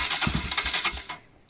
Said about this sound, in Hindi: ले बाइक नहीं हो रही स्टार्ट,